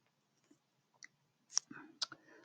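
A computer mouse gives a few faint, separate clicks, quiet and close in an otherwise hushed room.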